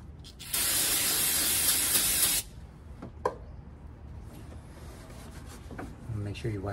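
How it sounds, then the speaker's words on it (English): Brake cleaner sprays in one loud, steady hissing burst of about two seconds onto the exhaust manifold and catalytic converter of a 2006-2012 Mitsubishi Eclipse 2.4L. Quieter shop noise and a sharp knock follow. "It's got a lot cleaner too when I hit it with the brake clean."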